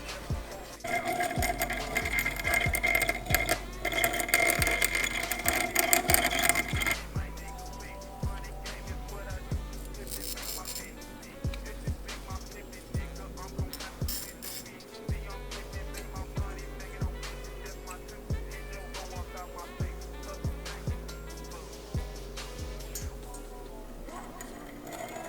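Piston rings for a Focus ST engine build are ground on a ring grinder wheel, producing a steady mechanical whir with repeated short grinding strokes, louder in the first few seconds and then a string of lighter, rhythmic passes.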